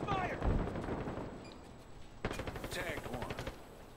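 Rapid bursts of gunfire crackle in Halo Infinite during a multiplayer match, a scattered shot early on, then a quick rattling volley of automatic fire, fairly quiet in the mix.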